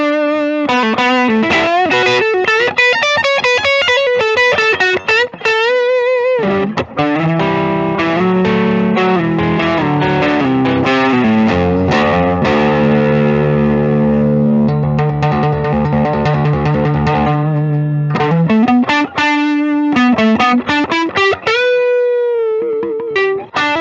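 A satin-finish 2021 Gibson ES-335 electric guitar played through overdrive with the volume rolled down, bending chords and sustained notes ringing loud and continuous, with no talking.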